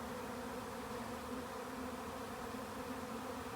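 Honey bees swarm around a hive box in a dense, steady buzz that stays close and even throughout, with no voices.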